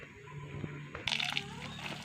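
Water is poured onto a potted ornamental caladium plant at home, producing a soft, quiet splash and trickle over soil, with faint sloshing and low background noise.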